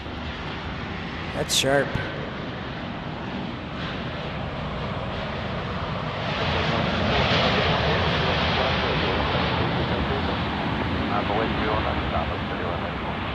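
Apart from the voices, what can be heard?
Boeing 757 jets at Dallas Love Field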